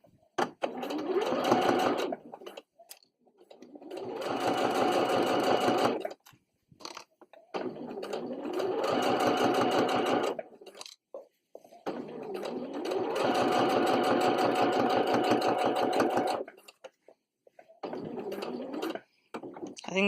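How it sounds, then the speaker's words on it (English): A sewing machine stitches straight along the edge of a cloth-pad wet bag in several long, loud, rapid whirring runs, each separated by short pauses, close up and alone. "you just want to sew straight along the edge here"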